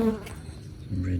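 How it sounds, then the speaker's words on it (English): Bees buzz close by near a lit indoor fish pond, a brief, steady droning hum over a quiet background. "See the bees"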